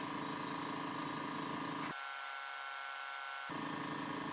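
An aerosol can douses a part with a second coat of paint in two loud, hissing bursts separated by a short quieter gap.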